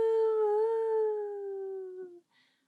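A voice imitates a howling snowstorm wind with one long, wavering hooting tone that slowly fades.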